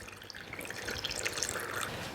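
Hot water pours into a rubber hot water bottle being filled for a warm compress, a steady close liquid gurgle and splash running throughout with no talk.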